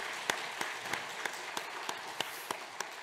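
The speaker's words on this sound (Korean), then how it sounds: "다시 한번 하나님께는 영광의 박수" A church congregation applauding steadily during an Easter Sunday service, sharp claps standing out from a dense wash of clapping, moderately loud and even throughout with no voices.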